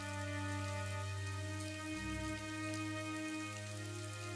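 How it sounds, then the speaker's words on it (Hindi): Heavy rain driven by wind falls through the night as an even, faint hiss that carries on without pause, with a low steady drone underneath. "उस रात भर हवाओं के साथ जोरों की बारिश हो रही थी"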